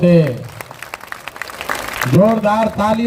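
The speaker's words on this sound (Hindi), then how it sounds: "ताली, जोर से ताली बजाइए।" Crowd applause at a political rally in Bihar, rising between stretches of someone speaking loudly, the clapping continuous but partly under his voice at the start and end.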